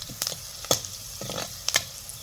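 Spices tempering with asafoetida and turmeric sizzle in hot oil with scattered crackles and sharp pops over a steady frying hiss, close by.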